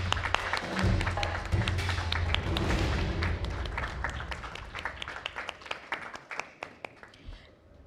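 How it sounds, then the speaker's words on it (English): An audience applauds steadily, the clapping thinning out toward the end into scattered individual claps. "These claps should not cease."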